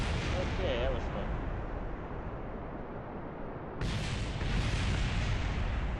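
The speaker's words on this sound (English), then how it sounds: "About time we had an explosion." A rocket explodes in Kerbal Space Program as a broad, rumbling roar. It eases slightly, then jumps to a sudden louder second burst, with a faint voice underneath.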